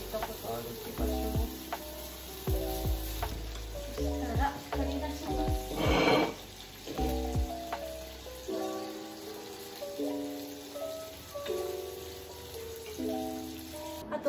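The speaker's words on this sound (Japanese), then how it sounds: "焼き色がついたらお肉焼いていきます。" Duck meat searing in a frying pan, a steady close sizzle and crackle that runs throughout while music plays along.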